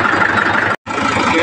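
A tractor engine chugs steadily and loudly up close, its mid-pitched running drone briefly cutting out for a moment before resuming.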